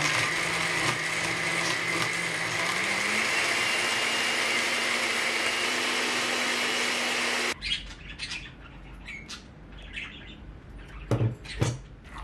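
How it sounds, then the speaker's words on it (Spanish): A kitchen blender whirs steadily with a rising motor pitch while blending flower, potato and water, then cuts off abruptly, leaving quiet clatter and faint chirps. "Lleven todo a una batidora con un vaso de agua."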